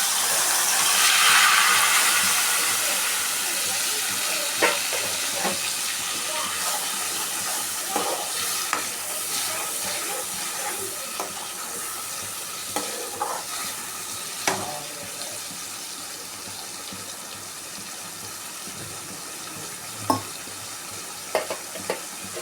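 Ground masala frying and bubbling in about three spoons of oil in a kadai, with cardamom, for Hyderabad chicken gravy: a steady close sizzle with scattered pops and bubbling clicks, heard alone with no talk.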